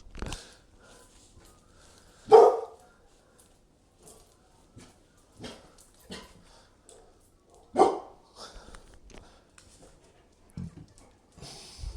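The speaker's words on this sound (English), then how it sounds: "You're both barking at something." A Tibetan Mastiff and an American Staffordshire Terrier bark, a few loud, sharp barks spaced several seconds apart, with quieter snorts and whimpers in between, close by in a quiet room.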